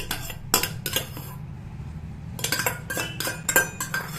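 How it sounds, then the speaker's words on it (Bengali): Dishes and metal cutlery clink and clatter up close in sharp repeated bursts, with a short quiet pause in the middle before several more quick clinks. "বাবা যে খনকন খনকন করে আওয়াজ করছে"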